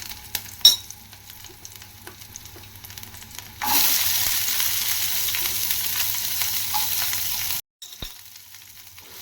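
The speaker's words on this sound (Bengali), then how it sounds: "এটা একটু নেড়ে নেড়ে এইভাবে ভাজা ভাজা করে নিচ্ছি" Loud, steady sizzle of garlic frying in a pan begins a few seconds in, with scraping stirring sounds and a brief drop near the end.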